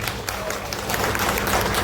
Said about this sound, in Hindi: दानी कंपनी के लिए एक बार जोरदार तालियां हो जाए प्लीज।